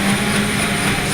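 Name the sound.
military helicopter during Scout Ranger heliborne training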